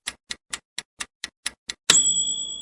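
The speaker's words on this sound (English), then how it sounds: "It was a timer going off." A kitchen timer ticks eight times in a steady, evenly spaced rhythm, then rings with a bright ding that lingers and fades away.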